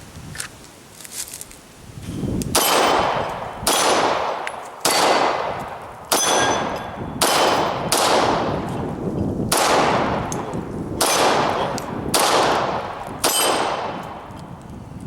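Beretta 92FS Compact pistol fired at a target: about ten sharp, loud, ringing shots in a steady paced series with echoing tails, no talking.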